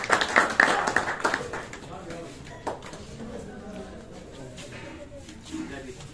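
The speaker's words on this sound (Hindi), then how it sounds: "तालियों से स्वागत करेंगे।" A crowd in the village of Singhwa Khas claps to welcome coach Jaideep Sangwan at a reception for national athlete Shivek. A brisk burst of scattered clapping lasts about a second and a half, then fades into faint background voices and stray taps.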